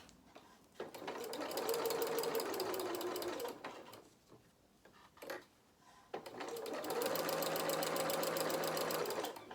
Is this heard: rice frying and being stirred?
no